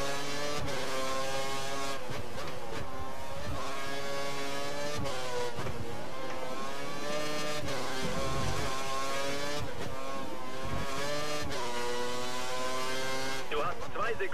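A Formula 1 race car engine in F1 2013 screams at high revs, its pitch rising and falling through repeated gear shifts as it pulls away. The engine stays loud and close throughout.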